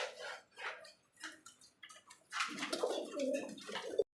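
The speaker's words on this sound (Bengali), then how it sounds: "প্রথমে দেখতে পাচ্ছি চমৎকার একটা কিন্তু কিংয়ের নর কবুতর।" Male King pigeon cooing up close, a series of soft throaty coos in uneven bursts, with a busier stretch of louder calls and rustling toward the end.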